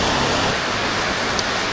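Heavy rain roars in a thick, even hiss, close and constant throughout with no voices over it.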